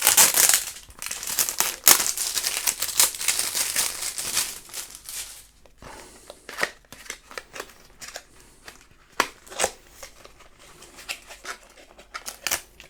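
Plastic seal wrap being peeled and crinkled off a boxed USKEYVISION WLZ1 wide-angle and macro lens, with dense close crackling and rustling at first, then thinning into scattered sharp crinkles.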